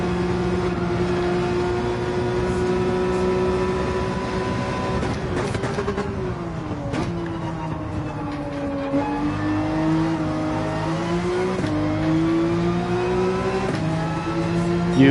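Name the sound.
Porsche 911 engine revving in Gran Turismo 7 video game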